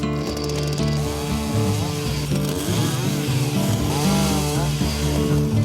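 A chainsaw drones steadily and loudly, its engine pitch rising and falling as it cuts through an overgrown alder tree.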